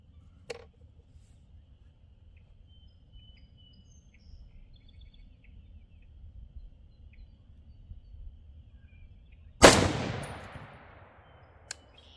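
A single loud .308 Winchester rifle shot with Federal Gold Medal Match ammunition cracks out near the end of a quiet outdoor stretch, its report decaying quickly, with faint bird chirps and small ticks around it.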